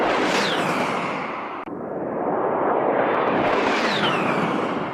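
An A-10 Warthog jet passes with a loud, rushing roar and high whine that swells, briefly cuts out, then sweeps past again in a second sustained whoosh.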